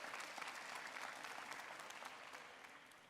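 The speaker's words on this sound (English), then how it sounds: "Give a round of applause." An audience at a high school graduation ceremony claps steadily in a dense round of applause that fades slightly toward the end.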